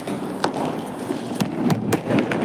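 Several sharp firecracker pops crack out at irregular intervals over a steady background noise, fairly close and loud.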